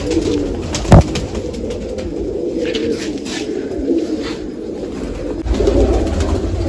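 Pet pigeons in a loft coo in low, throbbing runs against a steady background hum, with one sharp knock near the start.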